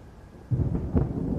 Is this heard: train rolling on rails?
no